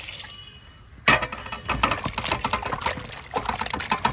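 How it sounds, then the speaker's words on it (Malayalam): Water pours into a vessel for washing chicken, starting abruptly after a quiet moment with a splashy gush, then continuing as a bubbling, uneven fill that swells again near the end. "ആവശ്യത്തിനുള്ള വെള്ളം ഒഴിച്ചു കൊടുക്കാം."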